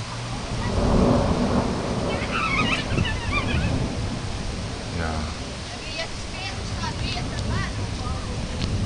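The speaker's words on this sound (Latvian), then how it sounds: "Ā, pērkons." Thunder rumbles low and sustained during rain in Liepāja, a broad rolling roar under steady rainfall noise, with people talking briefly over it.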